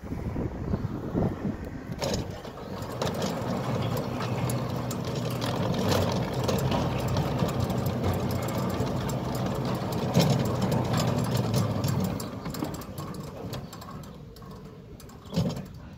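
A Centurion D6 Smart gate motor in Brakpan runs under test while poorly secured, giving a steady low mechanical drone with rattling and knocking throughout, close by, tapering off near the end with no speech.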